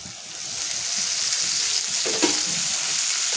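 Chopped leafy greens sizzle steadily as they are sautéed with turmeric and goda masala. The bright, hissing fry stays close and continuous, with a faint stir and shuffle of the leaves partway through and no voices.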